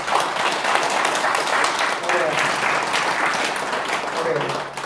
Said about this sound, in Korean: 그래서 박수 한번.